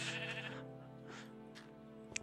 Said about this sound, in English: We only really need one sheep.